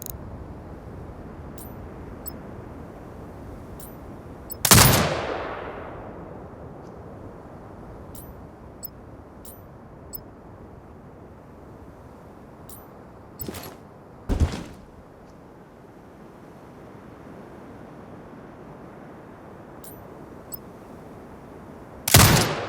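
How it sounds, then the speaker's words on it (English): A few heavy, isolated turret shots from Sniper Ghost Warrior Contracts 2 crack out loud and spaced far apart, each with a short decaying tail, over a quiet, steady ambient bed. "Exit binocular mode on the turret to fire."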